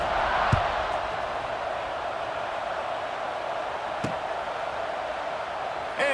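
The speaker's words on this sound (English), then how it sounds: "this crowd is buzzing after that last score" Steady crowd buzz fills a stadium in the College Football 26 video game after a score, a continuous broad roar at even loudness with a couple of brief thuds.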